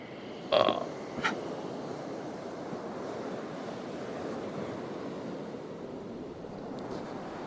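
Water and waves in the game 0°N 0°W, a soft steady wash of surf with a light hiss of wind, broken early by two brief splashing bumps.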